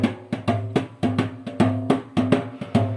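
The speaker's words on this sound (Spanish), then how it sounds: "introduce un tambor con parche, que es aquel tambor que está allá, y que sonaría de esa manera" A calypso drum with a skin drumhead, struck in a steady, even rhythm of resonant booming hits about four times a second, close and clear for three seconds, with no talk.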